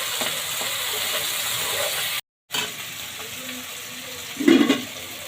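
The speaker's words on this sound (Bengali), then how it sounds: "এখন আমি এর মধ্যে দিয়ে দিচ্ছি টমেটো কুচি। এখন আর একটু টমেটোটা ভেজে নিচ্ছি।" Chopped tomato frying with browned onion in a pan, giving a steady sizzle with a brief stir partway through and a louder burst of spatter near the end.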